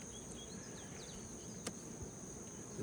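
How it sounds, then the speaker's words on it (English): Steady, dense buzzing of honey bees gathering nectar in Hawaii fills the scene, a continuous low drone with a few faint chirps and clicks in the background. "the bees are gathering nectar"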